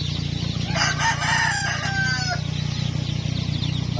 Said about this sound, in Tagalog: Na Brahma chicken. The gentle giant.